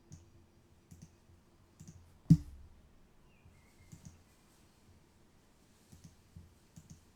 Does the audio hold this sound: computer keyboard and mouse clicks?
yes